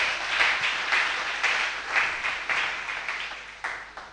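A church congregation applauding, dense sustained clapping with rhythmic surges roughly every half second, close and fairly loud with no speech over it.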